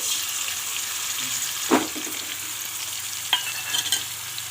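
Masala frying in hot oil in a kadai while a spoon stirs it, a steady close sizzle with a few scraping clinks of the spoon against the pan; no voices.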